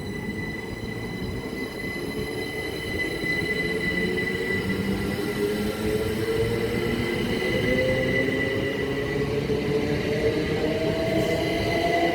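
A Great Western Railway Class 387 electric passenger train rumbles through Goring & Streatley station at close range, its engine tone rising in pitch over a steady roar, with high metallic wheel whine throughout.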